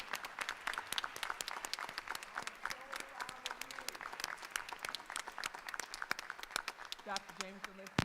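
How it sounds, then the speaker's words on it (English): Audience at a school board of education meeting breaks into sustained applause, many hands clapping densely and evenly for several seconds, with a voice speaking at the end. "So could you just, for me, clap for them one more time?"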